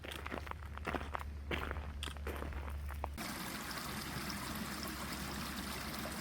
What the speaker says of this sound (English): While standing on the bridge, you can see and hear the water from the creek